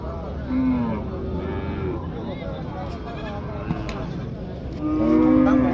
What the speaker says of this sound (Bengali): এখানে একটি লাল টকটকে গরু দেখতে পাচ্ছি